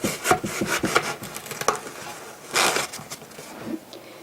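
Wet floral foam is being cut and trimmed, giving a series of soft, close scraping and crunching strokes in irregular bursts, with a denser cluster partway through and no talking.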